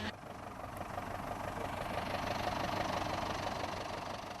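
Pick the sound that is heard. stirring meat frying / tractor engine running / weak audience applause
tractor engine running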